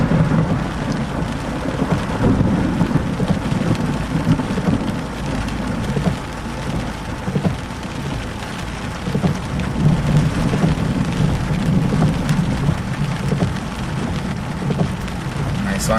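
Heavy rain pours steadily during a Florida lightning storm while deep thunder rumbles and rolls throughout, loud and close, with no clear talk over the dense downpour.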